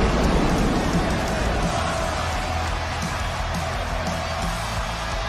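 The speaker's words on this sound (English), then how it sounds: "Listen to the crowd yelling" A wrestling crowd at a Halloween super show roars and cheers loudly and continuously, a dense wash of yelling voices that slowly eases off.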